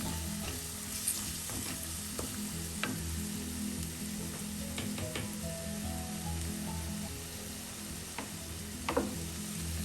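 Sardine pepper masala sizzles steadily in a pan while a spoon stirs through it, giving soft scrapes and occasional sharper clicks against the metal over continuous quiet frying.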